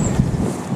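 Breezy wind outdoors in the hills, a brief burst of low rumbling wind buffeting the microphone, loud and close, with no voices.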